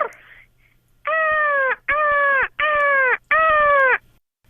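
A person imitates a raven, giving four loud, hoarse croaking calls in a steady rhythm, each lasting about half a second, with brief gaps between them.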